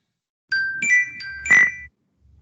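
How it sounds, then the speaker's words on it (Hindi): An incoming call rings on a phone: a short, clear sequence of bright electronic tones in a rising and falling melody, close and alone in otherwise quiet surroundings. "एक ये फोन आ रहा है, लेट मी आंसर इट"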